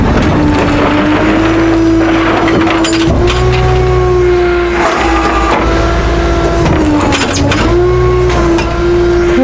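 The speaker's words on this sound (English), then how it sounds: "what I'm doing right now is just dragging the bed out till we get all the way at the end" A tow truck's hydraulic bed slides out with a loud, steady mechanical whine and rumble. Clunks and shifts in pitch break up the drone as it runs continuously close by.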